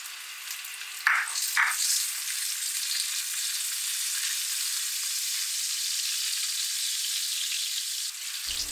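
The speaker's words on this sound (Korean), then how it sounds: "중불에서 편 썰어 놓은 마늘을 볶아요." Sliced garlic sizzles in three to four tablespoons of olive oil in a pan over medium heat, a steady even hiss with a couple of brief louder spatters near the start, continuing alone until it cuts off abruptly at the end.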